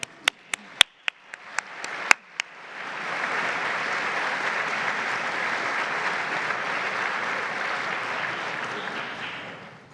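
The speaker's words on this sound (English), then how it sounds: "we can clap again" A few sharp single claps ring out, then a full audience breaks into sustained, loud applause at a Holocaust remembrance program as public officials are recognized, steady to the end.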